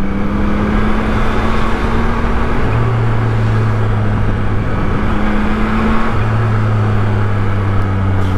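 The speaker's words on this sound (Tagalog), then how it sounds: "Matraffic dito banda" Continuous road traffic around a Yamaha MT-09 motorcycle on a year-end solo ride in congested traffic, a loud steady roar of engines with low droning hums shifting in pitch, dense and unbroken throughout.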